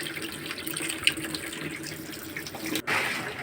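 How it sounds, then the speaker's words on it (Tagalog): Water pours steadily into the drum of a Panasonic washing machine, a close continuous rushing stream with a brief knock near the end. "Lagyan natin tubig."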